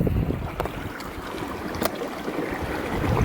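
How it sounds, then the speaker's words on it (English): A small Adirondack brook, mostly frozen over, flows with a steady broadband rush and gurgle, mixed with outdoor wind buffeting the microphone, continuous and fairly close, with no voices. "So it's a beautiful little brook."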